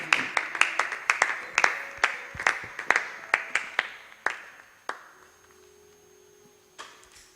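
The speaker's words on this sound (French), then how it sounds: "pendant que tu acclames pour le Seigneur" A church congregation clapping in praise to the Lord, a steady rhythmic run of hand claps that thins out and fades to scattered claps near the end.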